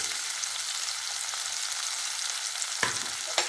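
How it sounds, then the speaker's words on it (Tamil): Tomatoes, ginger and garlic sauté in a pan for aloo matar, giving a constant close sizzle with a couple of brief scraping stirs near the end. "எல்லாத்தையும் நல்லா வதக்கிடுவோம்"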